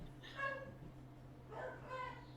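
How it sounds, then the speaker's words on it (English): Dogs barking in a video game, two short faint bark bursts with a pause between them over a low steady hum. "Oh, dogs are barking."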